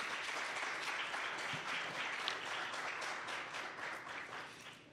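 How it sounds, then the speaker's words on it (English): An audience at a 2021 closing ceremony applauds an award winner, with a steady, dense wash of clapping from many hands that fades slightly toward the end. "so we can clap for her still"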